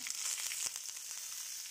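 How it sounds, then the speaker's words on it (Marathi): Mustard seeds, red chilli and curry leaves crackle and sizzle in hot ghee for a tempering, a fairly quiet, busy spatter of small pops with no talking. "तूप तापलं आहे आपलं. मोहरी घेते मी, थोडी मोहरी, लाल मिरचीची फोडणी करते"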